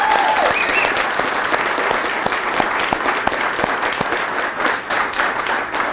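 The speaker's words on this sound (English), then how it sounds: "It deserves a round of applause." An audience at a press conference bursts into loud, sustained applause, many hands clapping close together, with a brief tone heard near the start.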